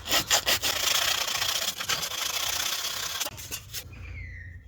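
400 grit wet-and-dry paper rubbed by hand in quick back-and-forth strokes on a Jeep XJ repair, a close rasping scrape that stops near the end.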